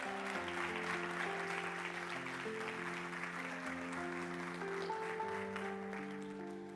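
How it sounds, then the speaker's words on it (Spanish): A church congregation applauds during a morning service, with a steady wash of many hands clapping at a distance, under sustained organ or keyboard chords, fairly faint throughout. "Denle un aplauso al Señor en esta mañana."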